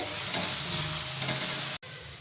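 Chopped tomato sizzles and fries in a pan while being stirred for ridge gourd chutney, a loud, continuous crackling hiss with scraping stir sounds that cuts off briefly near the end.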